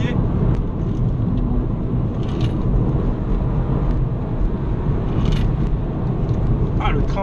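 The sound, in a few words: BMW 125i M (F20) driving in sport mode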